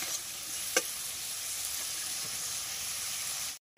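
Spices sizzle steadily in hot oil while being stirred together with figs and potatoes, a close, even frying hiss with one sharp utensil clink early on before a brief cut.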